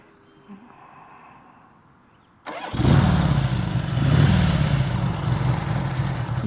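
A 1977 Harley-Davidson Ironhead XLCR motorcycle roars to life after a quiet lull, its engine then running loud and close as a steady, throaty drone.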